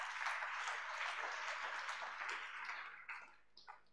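A congregation applauding at a French-language church service, a faint, steady wash of many hands clapping that gradually thins out toward the end.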